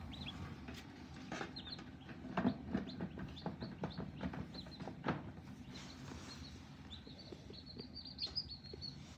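Newly hatched baby chicks peep in a brooder, a quiet scatter of short, high chirps repeating irregularly over a low background hum.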